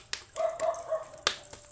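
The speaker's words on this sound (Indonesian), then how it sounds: "anjingku selalu gonggong" A dog barks several times in short, sharp, fairly close bursts spread across a quiet indoor background, with no talking over it.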